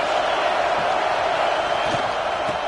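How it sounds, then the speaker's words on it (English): A packed Clemson football stadium crowd roaring early in a game, a dense, loud, continuous wash of cheering and noise filling the whole stretch. "This crowd bringing the energy and noise early."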